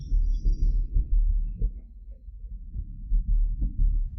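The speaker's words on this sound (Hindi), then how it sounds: "तुम्हारे दिल की धड़कन" A heartbeat pounds in deep, muffled thumps at a steady, moderately quick pace, loud and close, with no talking.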